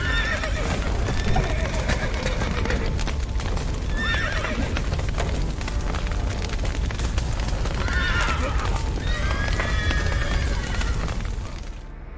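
Horses neigh and whinny repeatedly inside a burning stable in The Witcher 3: Wild Hunt, shrill calls rising over continuous clattering hooves and a low roaring rumble throughout.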